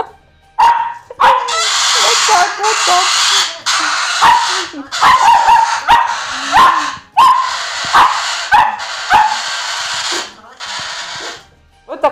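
Two dogs in an apartment barking and yipping at each other in sharp, repeated bursts, close and loud throughout, with someone speaking briefly between the barks.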